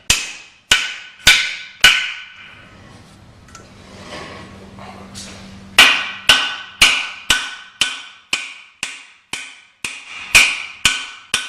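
Repeated hammer blows drive guide pin ends into a pump power frame during rotating assembly installation in a clean room; about fifteen sharp metallic strikes, a quick burst, a pause with faint low hum, then a steady regular series, loud and close.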